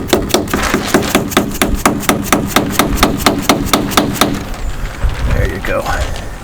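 Steady hammer blows strike the nut flange on a Yamaha FZ09 motorcycle during a suspension service, about seventeen sharp metallic hits in a quick even rhythm, loud and close, then stopping.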